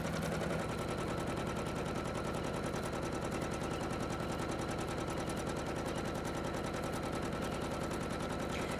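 A domestic sewing machine with a walking foot stitches fabric in a fast, even, rapid-fire clatter, close and loud, running continuously without pause.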